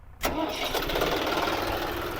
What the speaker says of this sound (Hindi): तो भाई बिना देरी करे ट्रैक्टर चालू कर रहे हैं।